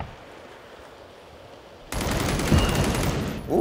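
Gunfire in the Planet of the Apes VR game: after a quiet stretch, a loud, dense burst of rapid automatic shots erupts and continues to the end, close and harsh.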